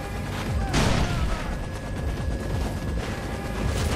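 Enemies in Far Cry 3 open fire on a helicopter: dense gunfire crackles over the steady roar of the aircraft, with one sharper burst standing out near the start.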